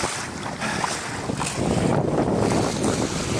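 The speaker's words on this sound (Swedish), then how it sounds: "Oj, här kommer mer vind." Strong wind roars while a sailboat races along, with loud, gusty buffeting and rushing water close by and no talking.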